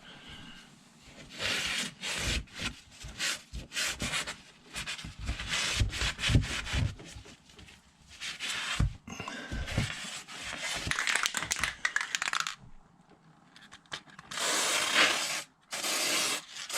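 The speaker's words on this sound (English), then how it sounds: "wipe out any dirt out of the track, and then you can also spray this dry lube in the track as well" Cloth wiping dirt out of an RV slide-out track and a can spraying dry lube into it, heard as close, uneven rubbing strokes followed by short hissing spray bursts near the end.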